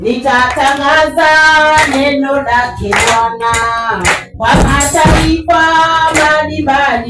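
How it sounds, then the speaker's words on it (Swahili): Church congregation clapping hands in time with a sung Swahili chorus, steady rhythmic claps mixed under loud group singing. "taimba chorus, tupige makofi"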